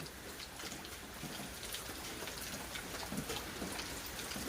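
Steady rain falls across a garden, a dense, even hiss of drops hitting leaves and ground that continues without break and with no voices.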